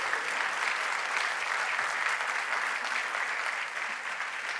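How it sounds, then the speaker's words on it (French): Steady audience applause at an induction ceremony fills the whole stretch, a dense, even roar of clapping hands with no pauses and no speech over it. "Une bonne main d'applaudissements."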